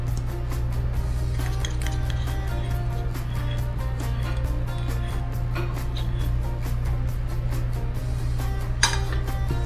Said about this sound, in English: See, this little whisk comes in good again